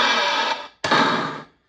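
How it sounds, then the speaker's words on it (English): A general MIDI door effect from a Mix me DJ drum machine: two quick broadband whooshes split by a sharp gap, like a door swinging open and thudding shut, loud and close. "That's a door."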